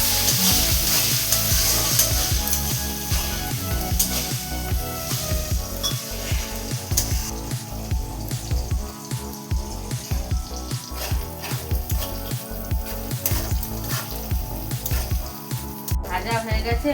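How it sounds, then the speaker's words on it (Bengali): Cashews and raisins sizzle and fry in a pan of oil for a Bengali-style veg fried rice, with steady close crackling and repeated scraping stirs of a spatula throughout, no talking. "একসঙ্গে সব ভালো করে ভেজে নিতে হবে।"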